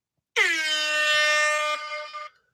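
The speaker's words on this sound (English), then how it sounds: "Let me give you an air horn." A single air horn sound effect blasts loud and alone, a bright sustained blare lasting about two seconds before cutting off, with no one speaking.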